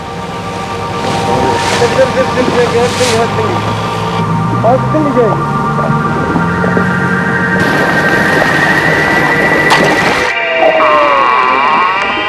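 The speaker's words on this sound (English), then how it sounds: "The sound of the engine arouses Olin's curiosity" A steady boat engine drone hums underneath, with dolphin calls over it and a noisy burst partway through; the motor keeps running throughout.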